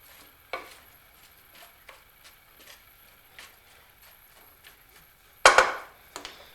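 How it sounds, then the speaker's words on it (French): Sliced leeks stirred in a frying pan over maximum heat make a soft, near sizzle broken by scattered scraping stir strokes and a louder clatter near the end, with no voices. "les poireaux sont maintenant découpés dans la poêle et à feu max"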